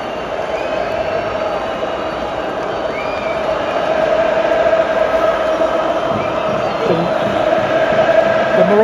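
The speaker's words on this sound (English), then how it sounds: "The Moroccans are cheering on their team." Moroccan football fans cheer in a stadium during a World Cup penalty shootout, a steady roar of crowd noise that swells slightly halfway through, with a voice talking over it.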